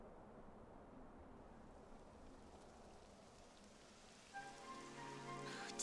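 Steady rain falls in the Dragon Quest XI S video game, a faint, even patter that builds slightly, with a brighter tonal layer of game sound joining near the end.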